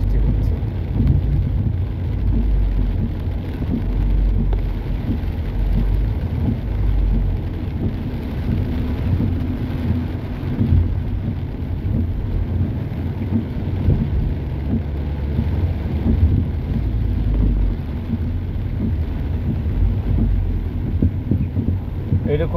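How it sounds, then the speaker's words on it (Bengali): Heavy rain pours onto flooding streets in Mecca as traffic passes, a dense, continuous roar of rainfall and low rumbling wind noise throughout, with no clear pauses. "প্রচুর পরিমাণ বৃষ্টি হচ্ছে।"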